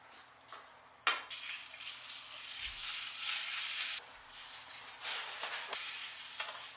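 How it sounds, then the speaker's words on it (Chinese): Sea bream stock being ladled out of a pot: a broad wet swishing and pouring noise that swells and falls in several waves, with a ladle knock near the start, close and fairly soft. "刚刚的高汤先捞一些出来，"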